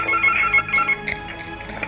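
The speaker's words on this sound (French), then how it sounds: "Ah, le téléphone sonne. Non, c'est le PC qui sonne." A computer rings with an incoming call: a loud, near electronic ringtone of repeated bright tones in a quick pulsing pattern, with no one speaking.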